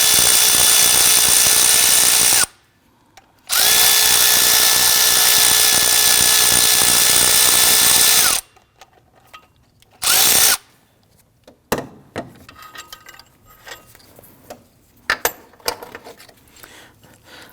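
A power tool whines loudly at close range as it spins out alternator bolts on a 2009-2017 Volvo XC60 3.2L inline-six, running in two long bursts and a short one, followed by metallic clinks and handling noises.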